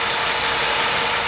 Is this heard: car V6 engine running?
yes